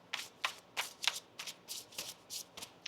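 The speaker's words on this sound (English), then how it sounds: "Let's get one more shuffle." Tarot cards riffle and slap together in a run of quick, regular shuffles, close and crisp, about eight bursts in three seconds with nothing else heard.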